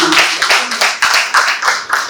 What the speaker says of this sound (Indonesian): Kita berikan tepuk tangan untuk Kakak Rafael